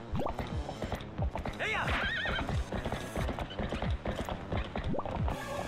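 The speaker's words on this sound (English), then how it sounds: "Okay, can y'all just wait a second so I can get on my horse?" The horse in Twilight Princess HD gallops with quick, rhythmic hoofbeats, loud and close, and gives a high neigh partway through, set against faint game mechanism sounds.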